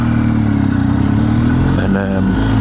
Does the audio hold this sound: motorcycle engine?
yes